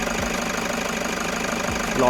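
The 3.0-litre four-cylinder engine of a 2017 Toyota Commuter manual van idles steadily with a low, even rumble and faint rhythmic knocking, close up and uninterrupted.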